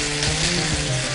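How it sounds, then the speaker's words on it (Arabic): Food being stirred in a hot pan on a home-style cooking show, a steady close sizzle and frying hiss running unbroken and fairly loud throughout, with faint scraping movement underneath. "هنبدا نقلب تقليبه كده حلوه"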